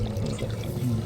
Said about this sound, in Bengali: দেখো জলটা, জাস্ট দেখো জলটা বেরোচ্ছে।